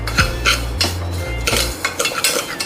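Ghee being mixed into broken wheat for lapsi, with a metal spoon clanking and scraping against a pot in a few sharp, close knocks and short rubbing strokes, no talk.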